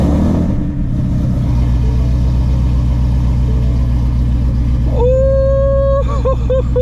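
A Shelby GT350 V8 with catless long tube headers idles and rumbles loudly and deeply, with a whistling tonal whine rising near the end.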